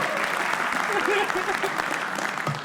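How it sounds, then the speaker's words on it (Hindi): A crowd applauds for a comedian at a roast show, a sustained wash of clapping with a voice or cheer briefly rising over it partway through. "एक बार बादल के लिए तालियां बजा दो।"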